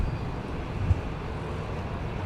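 An Alaska Airlines Boeing 737-900ER taking off at LAX on a full-power departure gives a steady broadband jet roar with a heavy low rumble, continuous and unbroken.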